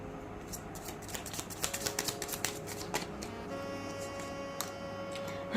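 Tarot cards being shuffled by hand, a run of quick papery riffles and soft flicks up close, with a faint steady hum underneath and no talking.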